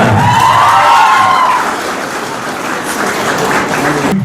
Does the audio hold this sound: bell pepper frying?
no